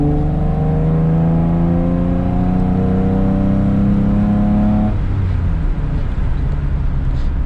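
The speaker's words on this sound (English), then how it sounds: "it sounds really good, this 5VZ FE" A 1997 Toyota Tacoma with the 5VZ-FE V6 and a five-speed manual drones steadily under load, its engine note climbing through a gear, then dropping off to a quieter cruise with road noise for the final seconds.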